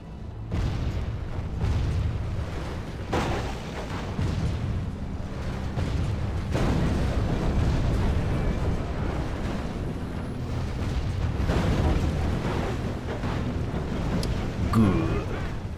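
Siege artillery pounds castle walls during a battle in Medieval 2 with a Game of Thrones mod, heavy booming impacts rolling over a dense, continuous battle rumble.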